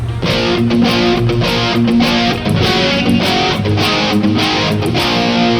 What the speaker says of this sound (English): So I've also got this one, I think, set up with a little bit of distortion.